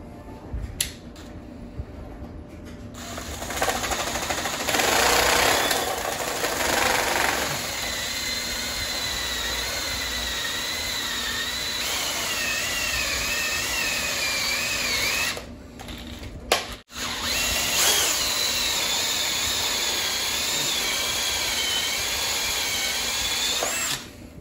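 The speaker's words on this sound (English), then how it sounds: "Let's go ahead and drill out." A power drill bores a hole in a Bird 3 electric scooter to fit an ignition switch. Close, loud whining bursts rise and fall in pitch, broken by short pauses and a brief stop near the end.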